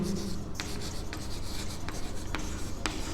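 Pen or pencil scratches across paper while working a math logic exercise, close and quiet, with several short sharp strokes and ticks spaced irregularly over soft rubbing.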